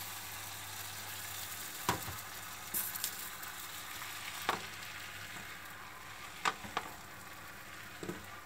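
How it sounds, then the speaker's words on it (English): Soft crackling sizzle of omelette egg mixture hitting a hot oiled frying pan, steady throughout with a few sharper clinks and taps scattered on top. "Heat oil in a frying pan, wait until it's hot, then pour half of the egg mixture in."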